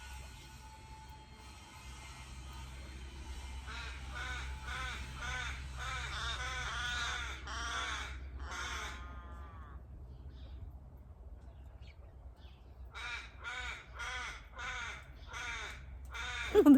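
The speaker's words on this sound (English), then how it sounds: "The birds are so distracting," Crows caw repeatedly in bursts, fairly close, over a low steady rumble, with a pause before another run of harsh calls.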